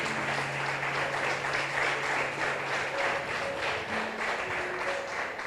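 A church congregation applauds continuously, a dense, steady wash of clapping filling the space, with faint tonal sounds beneath it.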